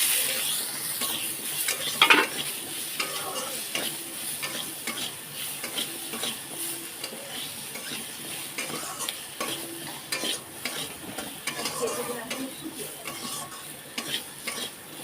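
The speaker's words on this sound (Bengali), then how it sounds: "ভেজে নেবেন" Spices with salt, turmeric and chili powder frying alongside fish roe in a pan, a soft continuous sizzle with occasional light clinks of a utensil, quiet and close, no talking.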